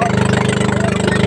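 A small outboard motorboat engine runs close by with a steady, rapid pulsing drone, loud and continuous for the whole moment.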